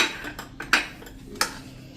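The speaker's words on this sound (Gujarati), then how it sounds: "હવે એમાં આપણે આ જે 1/4 કપ મેં ધાણા ભાજી સમારી છે ને ઝીણી, એને આપણે મિક્સ કરી દેશું" Chopped coriander is mixed into a chili fritter masala for whole-chili bhajiya, giving a few separate, close spoon clinks and scrapes against a bowl with quiet gaps between them.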